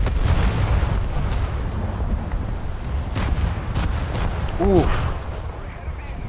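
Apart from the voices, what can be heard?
naval gunfire in a video game, armor-piercing shells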